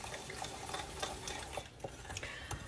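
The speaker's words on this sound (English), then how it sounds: "I'm going to stir this really good together." A spoon works through tamale pie mixture in an iron skillet, giving steady close scraping and soft clinks with a faint sizzle underneath, no voices.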